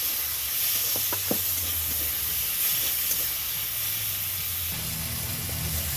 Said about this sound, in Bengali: সেই মটরশুঁটিটাও টমেটোর সাথে ভেজে নেবো